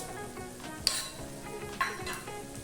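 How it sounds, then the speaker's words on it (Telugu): Coriander and mustard seeds roast in a hot pan, giving a soft, steady sizzle and crackle with a couple of sharp metallic clinks from stirring. "అలాగే ధనియాలు వేసుకొని వేపుకోవాలి. ఇవి కొద్దిగా వేగాక ఇందులోకి ఆవాలు,"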